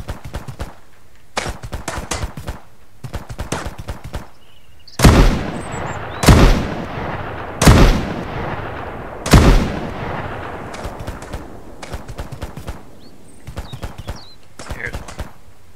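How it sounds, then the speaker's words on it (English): Gunfire in the survival game Mist Survival: scattered cracking shots, then four loud, heavy booming blasts about a second apart, followed by lighter distant pops, with talk in the background. "I can hear the gunshots."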